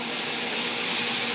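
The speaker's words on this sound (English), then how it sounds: "We got that sizzle, baby." Lobster medallions sizzle in hot butter in a pan, a loud, steady, broadband hiss that holds without a break.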